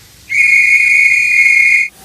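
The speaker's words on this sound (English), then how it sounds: "The train driver, Robin and Daisy blow their whistles." A train driver's whistle gives one long, loud, steady shrill blast lasting about a second and a half, starting and stopping abruptly against near silence.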